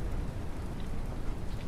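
Steady rain falling in the Mist Survival video game, a dense, even patter with no breaks, alone and without any talk.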